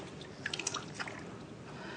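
Water is cupped and trickled over a baby's hair during a bath, giving soft, close drips and splashes in a short cluster over a quiet background.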